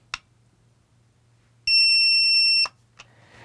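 A few sharp electronic clicks, then a loud steady beep holding for about a second before cutting off, followed by another click in a quiet room, as an E6 radio transmitter powers on.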